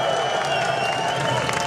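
Sustained loud cheering and applause from a big crowd at a Berlin protest rally against data retention, dense and unbroken throughout.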